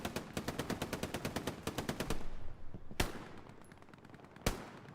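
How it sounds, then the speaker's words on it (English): Machine gun fire in a video game: a rapid burst of about twenty evenly spaced shots, followed by a short pause and two louder single shots. "Oh, support player sees the machine gunner."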